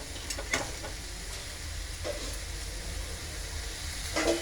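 Spice paste frying in a pan for a home-style bhindi (okra) curry, a steady soft sizzle with occasional stirring scrapes and brief louder crackles, close and alone with no talk.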